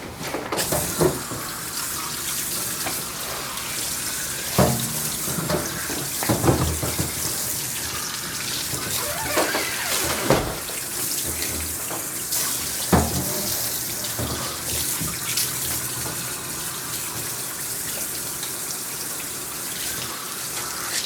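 Tap water runs steadily into a bath while a dog is rinsed during grooming, a continuous close splashing rush broken by occasional louder splashes and knocks.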